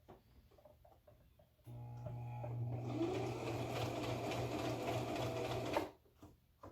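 A home sewing machine stitching a cooling collar runs in one steady, fast whirring burst of about four seconds, fairly close, with soft handling sounds before and after.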